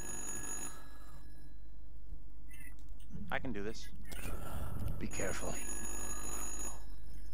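A telephone rings inside the horror video game Little Hope, a repeating electronic ring layered over a low ambient drone while people talk across the middle of the passage.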